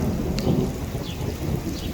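Steady rain hisses throughout, with a low rumble of thunder rolling beneath it; no voices are heard.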